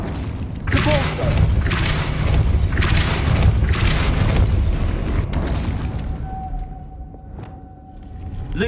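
A Depulso spell in Hogwarts Legacy bursts out as a loud, booming magical blast with rumbling thuds that roll on for several seconds before fading to a thin ringing tone.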